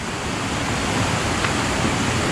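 A small waterfall on a waterway in Hebden Bridge, West Yorkshire, rushes in a steady, loud broadband wash of falling water, close by and constant throughout.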